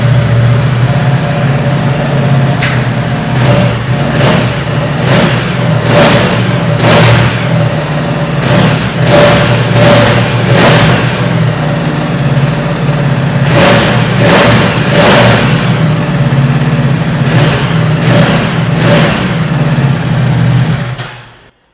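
A Ducati superbike engine sits at a loud, close idle while the throttle is blipped in repeated sharp revs, some in quick pairs and clusters, before the sound cuts off abruptly at the end; no one speaks.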